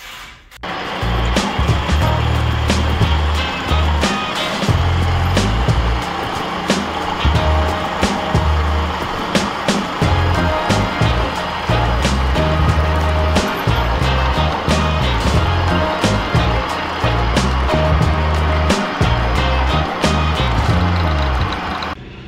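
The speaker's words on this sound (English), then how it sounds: "using the mill to cut the tops of these off" Metal milling machine cutting the tops off steel parts in a shop, a loud, continuous grinding and chattering cut with rough mechanical rumble that runs almost unbroken for the whole stretch.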